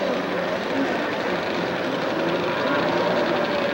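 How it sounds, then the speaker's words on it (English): Jet ski engines idle and rumble at the starting line of the 1984 World Jet Ski Championship finals on Lake Havasu, Arizona, a thick, steady engine roar that is loud and continuous with a slight wavering throughout. "The engines are cranked up and ready on the line"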